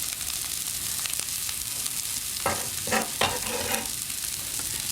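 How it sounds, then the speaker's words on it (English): Parsley fries in a pan with crispy bacon crumbs, a steady close sizzle under a few stirring scrapes and spoon knocks near the end, with no talking. "And this will kind of wilt the parsley down a wee bit"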